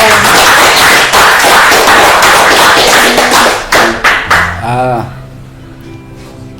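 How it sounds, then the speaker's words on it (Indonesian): Audience clapping at an Indonesian dialogue event with a Kasrem military commander about a feature film: loud, busy clapping for about four seconds that thins into a few separate claps, then fades under a lingering voice. "Tepuk tangan dulu dong."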